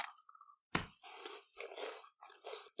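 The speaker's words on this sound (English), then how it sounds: "let's try the cabbage crisps first" Cabbage crisps from a Japanese snack box being bitten and chewed close up, a sharp crunch followed by several bursts of crunchy mastication with short pauses between them.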